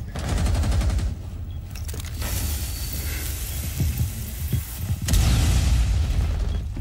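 Rapid bursts of video game gunfire and booming shots run loud and continuous through the clip, with heavy low-end impacts, a brief lull around the middle and a louder volley near the end.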